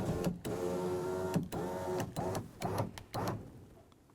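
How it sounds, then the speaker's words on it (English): Electric power window motor lowering the glass inside a 2003-2007 Honda Accord door, a close, steady whirring hum broken by several brief pauses and restarts, heard alone. "We're going to power the window down until we can gain access to our 2 mounting bolts holding the window to the regulator."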